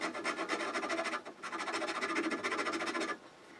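A coarse rasp scrapes rhythmically against a wooden chess piece turning on a lathe, with quick repeated strokes in two close, steady bursts separated by a brief pause.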